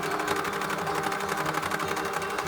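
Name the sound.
sewing machine stitching hem on jeans apron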